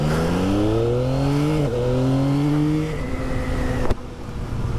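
A Yamaha XSR900 GP motorcycle with a three-cylinder CP3 engine setting off on a countryside road: the engine note rises through two quick gear changes, then settles to a steadier hum, loud and close with no speech.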